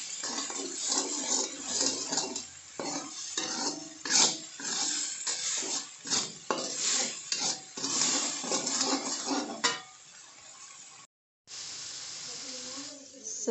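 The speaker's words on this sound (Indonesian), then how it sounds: "semua bumbu digoreng sampai harum" Spices for sweet-and-sour crispy tempeh frying in a pan, a steady sizzle and hiss with scattered clinks of a utensil against the pan, fairly close, with a voice speaking over much of it.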